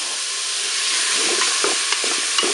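Pork, tomatoes and curry are stirred and fried in a Cookeo multicooker, giving a loud, steady sizzle with a few soft scraping strokes of the spoon near the end.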